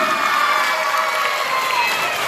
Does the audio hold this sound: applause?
yes